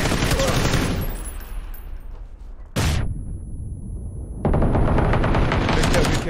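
Rapid bursts of automatic gunfire from the PUBG video game in a snowy winter map, loud and close, with a quieter gap midway before the heavy firing resumes.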